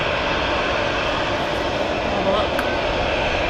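An airliner taxiing out at Manchester Airport gives off a steady, distant jet-engine roar that fills the air evenly without any sharp peaks.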